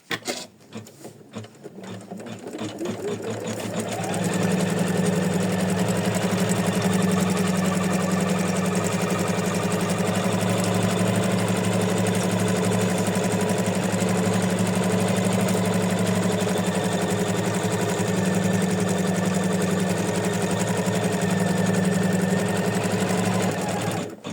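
An embroidery machine stitching felt onto an in-the-hoop heart design, starting up and then running in a fast, steady mechanical chatter with a constant hum, loud and close throughout.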